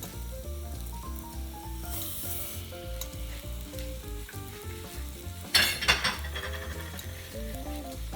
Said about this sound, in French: Voilà, on ajoute les lentilles.